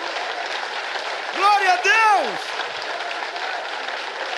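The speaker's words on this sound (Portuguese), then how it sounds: "Essa aí vale umas palmas" A church congregation claps in a steady, broadband wash of applause throughout, while a voice loudly shouts a praise over the middle of it.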